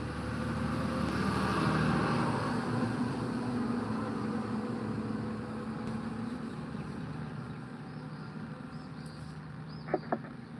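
Garbage truck on trash pickup rumbles steadily in the background, a faint low engine drone with a couple of short clanks near the end, no talking.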